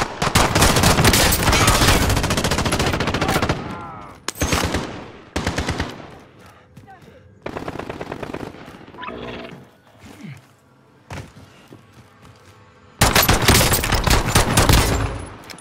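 Rapid video-game gunfire from pistols and machine guns, loud dense bursts at the start and end with sparser shots and quieter gaps in between, no talk.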